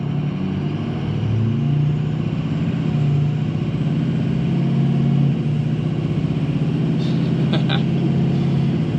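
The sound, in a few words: Ford 6.0 diesel truck engine revving with turbo flutter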